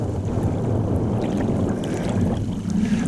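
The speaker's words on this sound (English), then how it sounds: "You can hear the little waves, the little ripples in the water lashing up against the little beach here." Gentle small waves lapping at a sandy reservoir beach at Black Moss Reservoir in the Peak District, a steady low wash with some wind rumble, continuous and fairly close, no voices.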